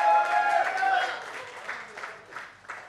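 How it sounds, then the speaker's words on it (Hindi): Audience applause at a film's music launch event, many hands clapping under lingering music or a voice that fades out, the clapping thinning into scattered bursts toward the end. "ladies and gentlemen, जोरदार तालियां for the gentleman"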